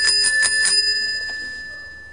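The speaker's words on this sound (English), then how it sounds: "Look, the bell works and everything." A tricycle bell rings in a quick burst of several bright metallic dings, then one softer ding, its clear tone fading away, close up and with no talking.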